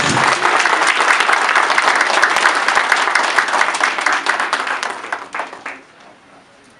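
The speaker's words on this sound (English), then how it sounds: "Give her a round of applause." A full round of applause from the audience at a Democratic organization meeting, dense and sustained for several seconds before thinning out and fading near the end.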